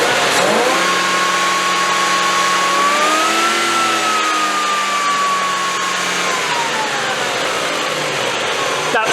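A 3.5 V8 in a Land Rover 110 NATO truck with a cooling fault is revved up and held, the engine note rising, sustaining, then falling back, with a whining tone over a steady close drone.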